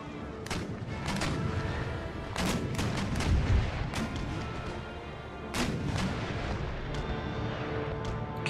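Repeated heavy cannon broadsides from warships in the naval battles of the strategy game Empire: Total War, loud booming volleys spread through the stretch with rolling overlapping blasts.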